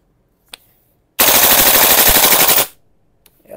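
A G&G MGCR 556 gas blowback airsoft rifle fires one loud, continuous full-auto burst of about a second and a half, its rapid shots running together, with quiet before and after.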